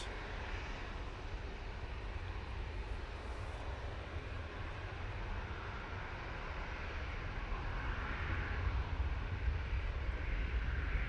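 A plane takes off at Manchester Airport, a steady distant roar of jet engines that swells gently and holds throughout, heard alone with no voices.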